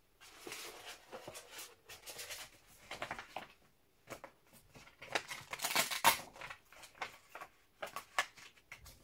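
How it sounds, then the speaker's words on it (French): Adhesive tape is pulled, pressed and rubbed down by hand in a quiet room, giving faint intermittent crackles, peeling rasps and soft scrapes in short irregular bursts. "je vais remettre un peu d'adhésif parce que j'ai l'impression que ça colle pas totalement"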